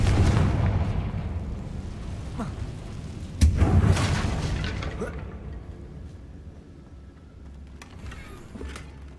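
A Confringo fire spell bursts in Hogwarts Legacy with a loud booming explosion partway through, over a dense rumbling game soundscape that fades into a quieter scene, with a few smaller pops afterward.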